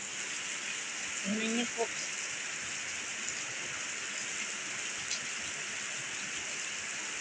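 Steady heavy rain hisses continuously, with a brief spoken phrase in Filipino near the start and a few faint drops or knocks.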